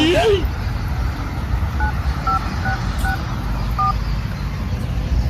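A telephone keypad dialing a number, with a run of short paired beeps at an uneven pace, set against a steady low rumble of nearby traffic and voices.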